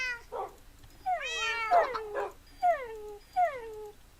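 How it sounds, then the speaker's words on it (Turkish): Tame dogs in the Minecraft video game make high, whiny yips and whimpers, a quick burst of several followed by two separate falling cries, with no talk. "bir sürü köpeğim oldu"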